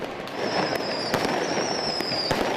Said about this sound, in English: police have not confirmed whether the fireworks were related to Diwali festivities